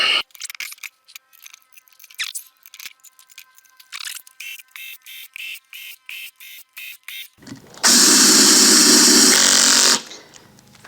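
A power drill drives screws into the sleeve plate of a belt grinder: short choppy bursts of whirring, then one long, loud continuous run near the end.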